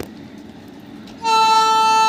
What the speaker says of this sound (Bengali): চলুন উঠে পড়া যাক, ট্রেন ছেড়ে দিচ্ছে